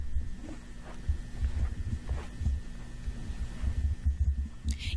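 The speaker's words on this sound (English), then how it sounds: "it's like the sound of him like jostling the camera in his hands" Handheld camera being jostled produces soft, irregular low thumps like a muffled heartbeat over a steady hum, fairly close and continuous with no talking.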